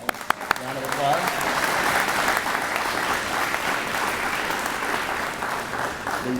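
An audience at a ribbon-cutting ceremony for a rehabilitation center breaks into steady, sustained applause for the youth present, full and even for several seconds after a few opening claps.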